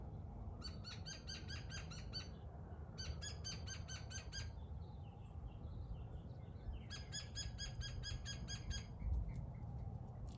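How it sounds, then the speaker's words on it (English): Birdsong rings out in repeated bursts of bright chirping phrases in an outdoor setting, with steady low background rumble underneath; no talking. "Is that bird praising me or laughing at me?"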